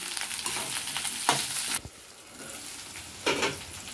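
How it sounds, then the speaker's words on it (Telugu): Sliced okra and curry leaves hit hot oil for an okra and raw prawn curry, a bright sizzle that drops back to a softer frying hiss, punctuated by a couple of stirring scrapes. "కరివేపాకు, తరిగి పెట్టుకున్న బెండకాయ పొలుపులు ఇందులో వేసుకుంటున్నా."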